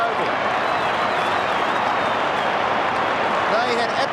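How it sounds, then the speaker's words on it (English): A large football crowd at the MCG in Melbourne roars and applauds without a break, a dense wash of cheering and clapping across a packed 1996 stadium. "The crowd are just streaming onto the MCG, coming from every area"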